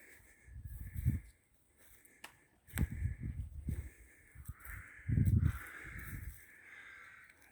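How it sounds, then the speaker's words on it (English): Several crows caw in short bursts at a moderate distance, with quiet outdoor ambience between the calls. "You can hear the crows there, it's beautiful."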